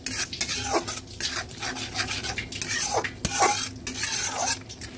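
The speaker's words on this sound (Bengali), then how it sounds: "ভালোভাবে নেড়ে মিশিয়ে দিচ্ছি।" Cumin, turmeric and chili powder being stirred in a pan for a koi fish curry with potatoes: repeated scraping and clinking of a spoon against metal over a soft background sizzle, close and steady, no talking.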